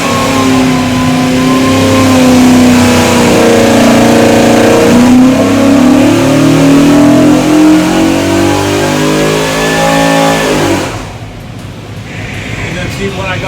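A Fox body Mustang engine revs up and holds a rising, droning pitch for several seconds at an open house event, then drops quickly back to a steady idle, loud and close with someone talking over it.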